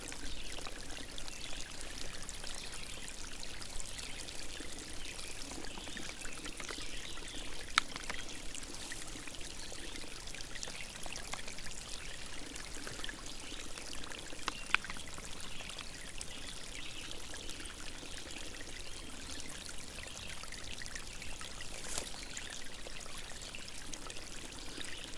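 Fresh stream water pours and trickles continuously at close range, a steady bright splashing wash with a couple of small clicks and no talking.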